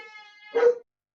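A single short, close dog bark breaks out indoors after a faint tonal background, then quickly stops.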